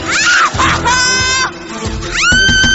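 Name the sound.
someone screaming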